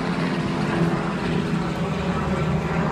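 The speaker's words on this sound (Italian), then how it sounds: "elicottero" A helicopter passes overhead near a Caribbean beach resort, a steady broadband rotor-and-engine roar that stays loud throughout, with no distinct voices over it.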